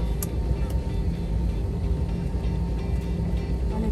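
A passenger airplane's engines roar steadily as it takes off, heard from inside the cabin as a loud, continuous low rumble with voices chatting faintly under it.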